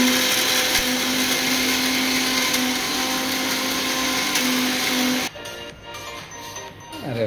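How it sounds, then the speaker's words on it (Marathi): A kitchen mixer grinder blends ginger and garlic into paste, a loud steady whirring motor drone that cuts off abruptly near the end, leaving quieter handling sounds. "लसूण सगळं त्या मिक्सरमध्ये टाकायचं आहे."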